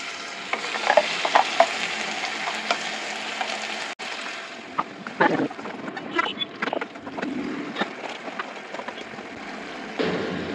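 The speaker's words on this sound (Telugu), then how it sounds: "ఈ మసాలా గ్రేవీని వేసేద్దాం" Masala gravy hits a hot pan for a potato and egg curry, sizzling steadily while a spoon scrapes and stirs in repeated close strokes; the frying noise eases slightly toward the end.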